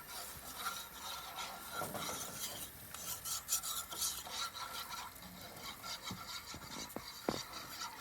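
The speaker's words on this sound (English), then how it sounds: "Got to kind of keep stirring it" Biscuit gravy stirred in a pan over a campfire, a soft, continuous scraping and rubbing of the utensil against the pan, close and fairly quiet, with a few sharper clicks.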